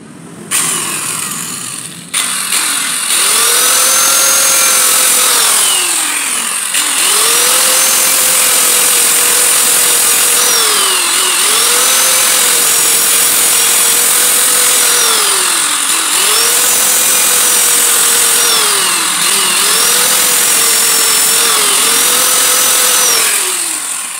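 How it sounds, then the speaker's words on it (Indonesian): An angle grinder cuts into a Honda Beat FI motorcycle part to fit a brow lamp, a loud, close, high-pitched whine that dips in pitch about four times as the disc bites under load. "Alat yang kita gunakan ya teman-teman, kita pakai gerenda ini teman-teman."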